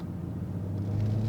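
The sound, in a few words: BMW M340i car exhaust sound while driving fast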